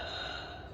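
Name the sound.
gasping inhale made by expanding ribs with airway closed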